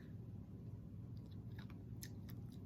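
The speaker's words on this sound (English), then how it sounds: "Can you hear that crunching? The crystals in the sugar are very large." Close, crisp crunching as large turbinado sugar crystals are chewed, with a few sharp bites standing out over a steady low chewing sound and no talking.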